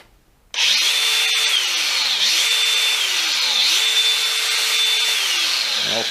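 A DeWalt DCG405 18V cordless angle grinder whines steadily at high speed, its motor pitch dipping briefly a few times as it runs on continuously.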